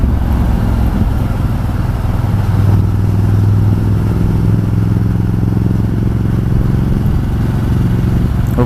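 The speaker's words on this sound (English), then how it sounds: "Hopefully you can hear the V-twin on this thing, L-twin." A Ducati Multistrada 1200 S L-twin engine runs at low revs while the bike is ridden in rain, giving a loud, steady, throbbing drone with a slight rise in pitch near the middle and wind and road noise mixed in.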